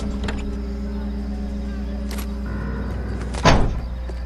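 A car door in the 1940s Los Angeles police game LA Noire gives a single sharp thud near the end, heard over a steady low engine rumble and faint background noise.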